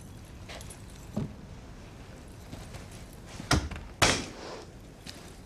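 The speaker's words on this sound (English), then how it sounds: "Close the door." An office door in a prison drama is pushed shut with one solid thud, followed soon after by a second, heavier bang that rings out briefly; a quieter bump comes earlier, with no talking.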